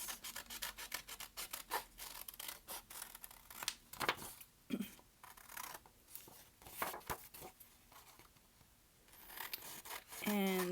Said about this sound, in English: Okay, so I'm just going to go ahead and cut this.